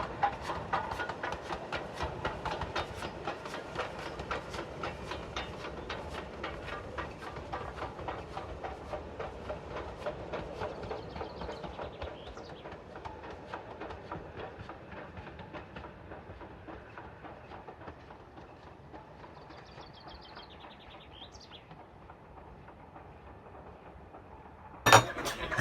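Train passing on the Keighley & Worth Valley Railway with Flying Scotsman, a steady rhythmic clickety-clack of wheels over rail joints that slowly fades, faint squeals near the end and a sharp knock at the close.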